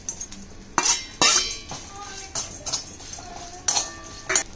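Cluster beans go into oil with chili powder in a metal pan, and a spoon stirs them with sharp, close clinks and scrapes against the pan in irregular bursts amid quieter gaps.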